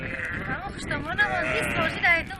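A flock of sheep on a Tajik mountain pasture bleats in overlapping, wavering calls, close and fairly loud against a noisy outdoor background.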